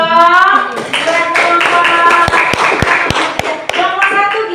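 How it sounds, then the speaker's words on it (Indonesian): Hands clap in a quick burst of sharp slaps in a classroom, mixed with voices and a sung or chanted tone underneath. "Oke, tepuk tangan dulu dong."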